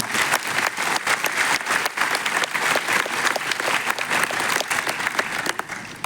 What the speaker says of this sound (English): can we please have a round of applause for our original founders?